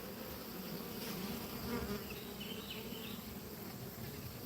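Bees buzz around a hive with drawn comb, a faint continuous hum of many insects drifting at a distance, with a few louder passes of single bees flying nearer.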